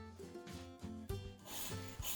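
A Stanley card scraper scraping nitro lacquer off a wooden chair, giving a series of rasping, rubbing strokes that come in rhythmic pulses, close and fairly loud with no talk.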